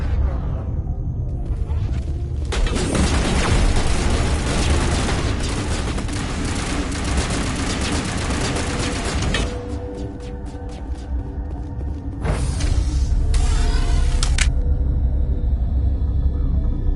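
Sustained heavy gunfire in the video game Mass Effect, a loud continuous barrage with booming rumble, easing briefly near the middle before another intense burst.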